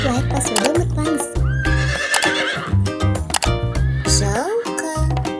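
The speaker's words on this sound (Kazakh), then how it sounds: "Балақай, сен білесің бе, жылқы үй жануары." A horse gives a loud, rising whinny close by, set over a bouncy musical backing with clip-clop rhythms.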